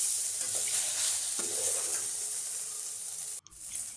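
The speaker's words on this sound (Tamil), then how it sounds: "இப்போ வெண்டைக்காய் நல்லா வதங்கி வந்துருச்சு" Okra (lady's finger) sautéing in a pan for a traditional vendaikai puli kuzhambu, a steady close sizzle with occasional stirring scrapes, cutting out briefly near the end before resuming.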